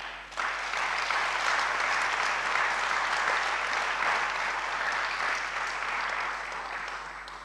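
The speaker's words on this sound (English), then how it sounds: "Let's please give them an applause." A large graduation audience at the Medical University of Lodz applauds family and friends with steady, dense clapping that holds for several seconds and fades slightly at the end.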